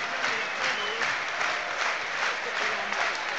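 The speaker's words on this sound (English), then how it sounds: "Baker warmly applauded" A football crowd gives warm, sustained applause as a player leaves the pitch during a Pompey versus Cheltenham Town match, a steady wash of clapping from the stands.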